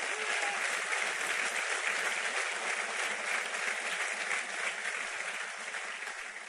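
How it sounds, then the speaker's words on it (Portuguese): A large audience applauds steadily, a dense wash of clapping that holds at an even level for several seconds with no voices over it. "Pode aplaudir a ele."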